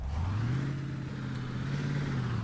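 A KrAZ truck in the BeamNG driving game revs and accelerates with a steady, droning engine note that rises slightly and holds, alone and at moderate volume.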